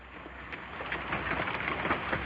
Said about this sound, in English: What you're hearing is a hailstorm